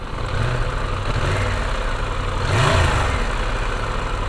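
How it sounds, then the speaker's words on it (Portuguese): A Triumph Tiger 1200 motorcycle engine with a metallic mechanical noise idles steadily close by, swelling briefly as if blipped before settling back to a constant hum, with no talking. "Eu já tô começando a ouvir o barulho do motor, né? Barulho metálico."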